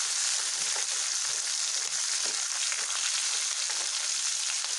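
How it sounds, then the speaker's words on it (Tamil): Garlic and curry leaves frying in hot oil, a crisp, even hiss like steady rain, close up and continuous, with no talking. "இது லைட்டாக ஃப்ரை ஆன போதுங்க"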